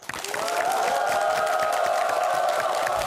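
An audience at a lecture event claps to welcome a guest speaker, the lighting company chairman, with a steady burst of applause layered under a sustained musical tone.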